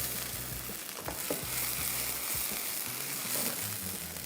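Garlic fries lightly in a pan with a soft, steady sizzle, faint and continuous, broken by a few small scraping ticks of stirring.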